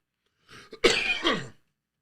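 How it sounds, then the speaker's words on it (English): A single harsh cough with a rough throaty burst, close and fairly loud, preceded by a brief breathy catch, then silence. "That cough going away, don't worry."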